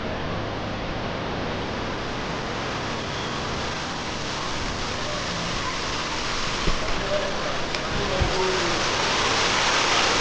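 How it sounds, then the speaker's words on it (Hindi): Waterfalls and the Bhagirathi river rush beside a temple, a dense, loud, even hiss of falling water holding steady throughout, with a few faint knocks near the end. "देखिए दोस्तों झरने बह रहे हैं।"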